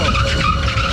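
An amusement park ride at Fantasy Island screeching loudly and close by, a continuous harsh metallic squeal like skidding tyres lasting about a second.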